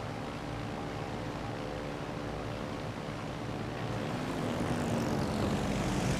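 Aircraft engines droning from a squadron of planes in the naval combat game World of Warships: Legends, a steady loud propeller hum and roar that swells slightly toward the end, with no talk.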